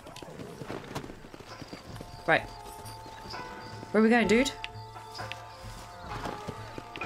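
Horse hooves clip-clop at a walk in Red Dead Redemption, a soft rhythmic plodding under game ambience, with someone speaking briefly and a couple of louder tonal game sounds cutting in.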